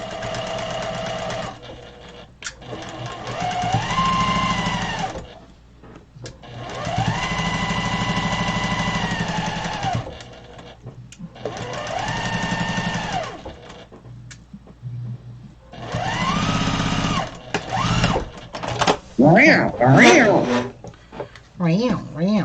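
A sewing machine stitches a broken dishes quilt in long whirring runs with brief pauses between seams, close and loud, with a person talking around and over the stitching.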